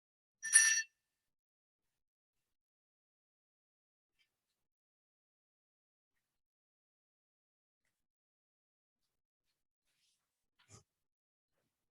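A small bell rings once, brief and bright, during a Unitarian Universalist worship service, followed by long silence and a faint soft knock near the end.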